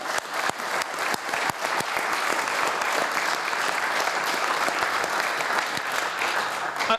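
An indoor audience at a broadcasting debate claps steadily, a dense run of many hands that lasts throughout and never breaks.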